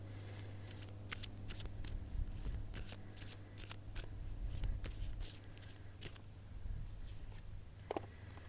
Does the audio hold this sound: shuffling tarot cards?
yes